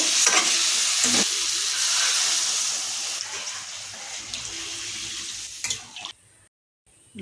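Water is poured into a hot pan of aar fish curry base with eggplant and coriander leaves, making a loud, rushing hiss that fades over several seconds and then cuts to near silence.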